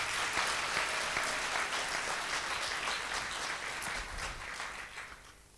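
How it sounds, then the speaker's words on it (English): Sustained audience applause fills a room at a church birthday celebration and leadership handover, a dense steady wash of many hands clapping that fades slightly toward the end. "Give them a round of applause first."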